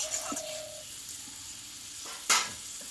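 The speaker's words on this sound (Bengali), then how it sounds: "প্রায় আমি দশ মিনিট মতো মটনটা কষিয়ে নিয়েছি মশলার সঙ্গে" Mutton sautés with spices in a pan, a soft steady sizzle under a few scattered stirring knocks, with one louder scrape of spoon on pan near the end; close and fairly quiet, no talking.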